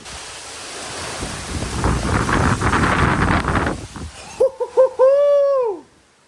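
Hurricane Milton's high-speed wind roars over Tampa Bay, Florida, in 2024, a loud, gusting rush lasting several seconds, then cut off by a few short, close tonal hoots and one longer falling one.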